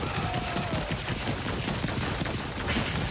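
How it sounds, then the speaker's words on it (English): A rocket swarm attack in an action RPG video game, with a dense, continuous rattle of rapid impacts and bursts filling the whole stretch at moderate loudness, like a fusillade. "Hit him with a rocket swarm"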